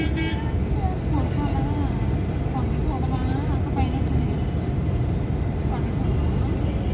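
A bus heading toward Tirupati in hilly country, its engine and tyres giving a steady road rumble throughout, with people talking over it and a faint horn toot.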